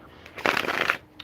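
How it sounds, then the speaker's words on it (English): Oracle cards are shuffled and pulled in one quick riffling burst lasting about half a second, close and crisp, with a faint tap just after. "I'm going to pull some clarifying cards"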